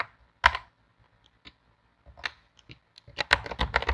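Sparse keystrokes on a computer keyboard while typing Swift code for iOS development, starting with a few isolated clicks and quickening into a close, rapid flurry of typing near the end, with no speech.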